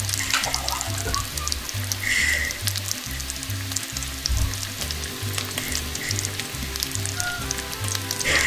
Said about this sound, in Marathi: आता ही वजरी मी तेलात व मसाल्यात घालत आहे।